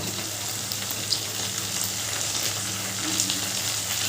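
Steady, close sizzle of chopped onions frying in a pan of tangra fish curry with potatoes, a continuous hiss with only faint small pops and no voices.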